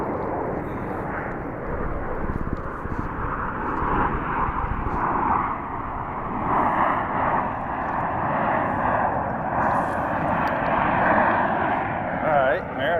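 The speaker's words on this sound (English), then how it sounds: "we are getting a blue angel flyover right here" A Blue Angels jet flyover on an early morning by the water, a loud sustained roaring rumble that swells and holds for the whole stretch, with people talking underneath.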